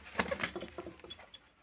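A young male pigeon coos softly in a series of short, rough, immature notes, close by and alone.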